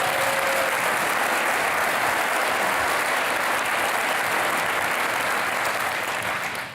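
A large audience at a SAMCEDA business awards event bursts into sustained, dense applause for the board of directors, a steady wash of many hands clapping that holds strong throughout before tapering slightly at the very end.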